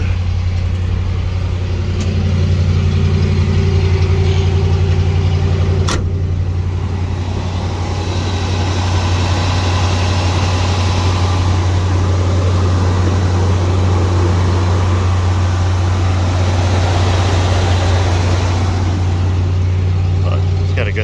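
A 1971 Chevrolet C60 fire truck engine idles with a loud, steady low drone throughout, close by, with a faint click partway through and speech likely over it.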